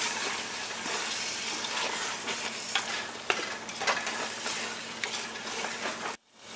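Mushrooms being stirred into sizzling masala in a pan for Dindigul Thalapakatti-style mushroom biryani, a steady close-up frying hiss with scraping stirs throughout, ending abruptly.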